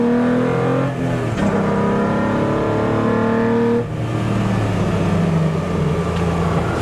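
A Toyota MR2 race car lapping Snetterton race track, its engine droning loudly and steadily with rising revs, brief dips at gear changes, heard close from inside the car.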